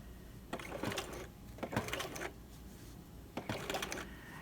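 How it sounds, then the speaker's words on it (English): Sewing machine top stitching a trouser fly front at a long 3.5 stitch length, a quarter inch from the folded fabric edge, in three short bursts of motor whirring separated by pauses, close and moderately loud. "I'm going to sew 1/4 of an inch from the folded edge."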